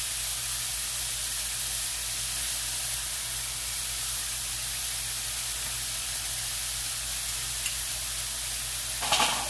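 Leftover rice heats in a single skillet holding a one-pan meal, giving a steady, even sizzling hiss with no break and a brief clatter of utensils near the end.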